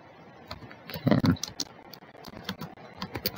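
Quick, uneven clicks of computer keyboard keys as someone slowly types a chat message during a game quest, close and fairly clear, with a louder cluster of strokes about a second in.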